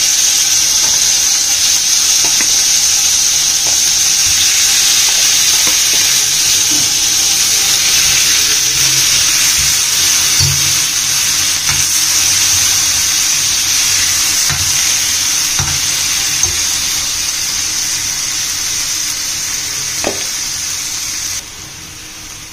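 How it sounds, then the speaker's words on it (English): Marinated paneer in curd, chilli powder and ginger garlic paste fries in a pan with a steady, bright sizzle throughout, broken by occasional soft clinks and stirring taps, with no voices. "Let this fry in a pan for 5 minutes."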